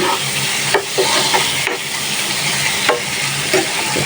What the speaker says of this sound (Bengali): মশলাটা কষানো হয়ে গেছে আর এখন চিংড়িগুলো দিয়ে দিই